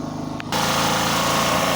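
A small generator engine roars to life and runs steadily, a loud continuous mechanical drone with a rough buzzing edge, close by.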